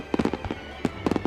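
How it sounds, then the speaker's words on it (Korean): Fireworks bursting over Paris on the night before a French national holiday, a rapid series of sharp booming cracks in quick clusters, some layered and echoing, with no voices. "그 전날 밤 11시경부터 해서 12시 한 40분까지 해서 폭죽을 터뜨리더라고요"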